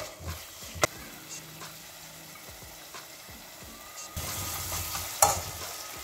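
Tomato and spice masala sizzles in oil for chole, with soft scraping stirs and occasional clicks of the spoon; the frying grows louder toward the end.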